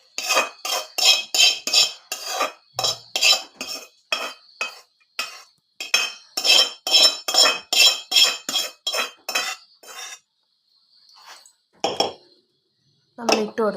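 Garlic chutney ingredients are spooned into a small bullet mixer jar, producing a quick, regular run of bright metal and glass clinks that pauses briefly and then resumes with a few more taps.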